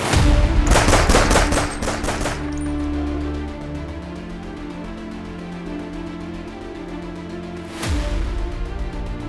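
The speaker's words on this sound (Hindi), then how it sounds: "बाइक सवार शख्स ने 6 से 10 राउंड फायरिंग की।" A rapid burst of loud gunshots, six to ten rounds fired by a man on a motorbike, rings out at the start, followed by lingering rumble, then another sharp shot near the end.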